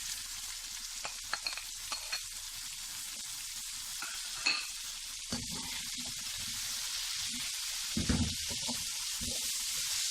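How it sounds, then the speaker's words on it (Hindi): Onions fry for karahi gosht in a steady, soft sizzle, with scattered clinks and a few louder scraping stirs of a spoon against the wok, without any speech. "अब हम इसमें प्याज डालेंगे।"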